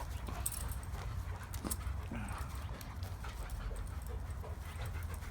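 A Dogo puppy and an adult German Shepherd play together indoors, with quiet panting, scuffling paws and soft snorts running continuously at low level, with no talk.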